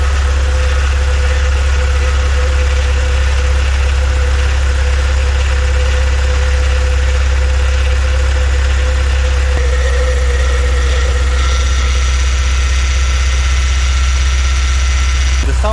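A BMW 316i E46 runs with the heater fan on, giving a loud, constant low engine drone and a steady mechanical hum from a pump, with a slight shift partway through and no voices.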